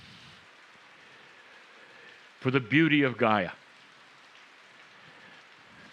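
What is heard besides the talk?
rain falling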